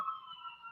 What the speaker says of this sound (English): And I apologize for the sirens outside.